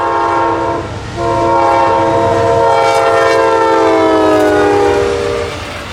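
Amtrak Auto Train number 53 rumbling past before dawn near Folkston, Georgia, its horn blaring in two long, loud blasts over the steady roar of the passing cars, with no voices.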